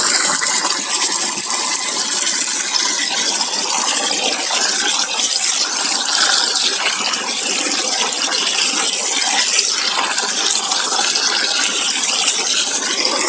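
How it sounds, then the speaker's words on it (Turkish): A strong, continuous rush of running water washing sea sand, loud and close, pouring steadily without a break and with no voices. "Evet, deniz kumunu bir yıkayalım."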